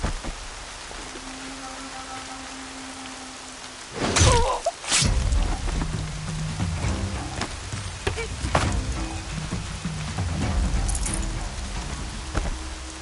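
Steady rain falling in the video game Horizon, a continuous broadband hiss throughout with a sharp loud burst around four seconds and scattered drips and clatters after.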